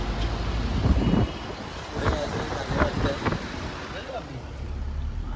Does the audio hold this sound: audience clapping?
no